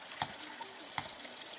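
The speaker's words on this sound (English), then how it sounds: "Water from the living rock, Russell Spring, God's precious gift to man." Spring water pours from rock at Russell Spring in the Cotswolds, a continuous close splashing trickle with a couple of brief louder gurgles.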